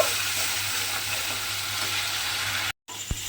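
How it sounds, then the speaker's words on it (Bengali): Spice paste sizzles and fries steadily in hot oil left over from frying eggplant, a continuous close-up crackle with a brief cut near the end and a single soft knock after it. "তেলের মধ্যে মশলাটা দিয়ে দিলাম। দিয়ে মশলাটা কিন্তু আমি খুব ভালোভাবে একটু কষিয়ে নেব।"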